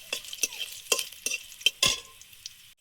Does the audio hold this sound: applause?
no